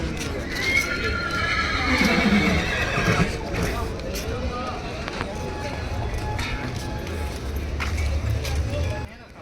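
Horses at a horse fair held beside a cattle market during a temple festival, neighing and whinnying with clip-clopping hooves amid a busy outdoor crowd, with people talking throughout.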